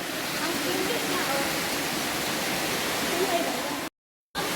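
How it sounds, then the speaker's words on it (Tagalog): Cold water flowing and splashing inside Sumaguing Cave, a steady broadband rushing wash close by that continues evenly before cutting out briefly near the end. "Ang lamig ng tubig na umaagos, oh."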